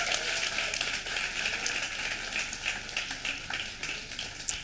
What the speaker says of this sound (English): So round of applause for our work